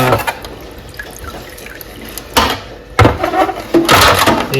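Muddy water from a lapidary saw tray is poured out, splashing and gurgling loudly in uneven bursts with scattered drips in between, close up.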